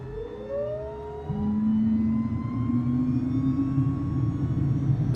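Aircraft engine spooling up on start in Microsoft Flight Simulator 2020, a rising whine that jumps to a steady loud drone with a climbing tone underneath.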